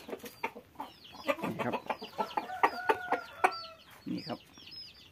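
Several fighting cocks of an aggressive breed cluck and chirp in quick, overlapping bursts, close by and fairly quiet, with someone speaking briefly.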